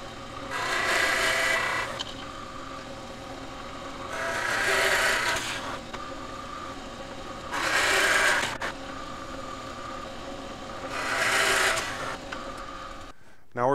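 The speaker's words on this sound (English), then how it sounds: "we're over at the drill press, and what we're going to do is drill 4 1 1/8 inch holes" A drill press bores four 1 1/8 inch holes in wood, giving four separate rasping, grinding swells of cutting over a steady motor hum, each lasting about two seconds.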